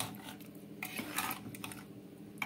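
Dalma is stirred in a cooking pot, with soft scraping and clinks of a spoon against metal in short bursts, quiet and close.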